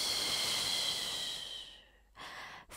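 A long, steady exhalation through the mouth as the body releases from a twist in a vinyasa yoga flow, breathy and close, fading out before a brief quieter breath follows.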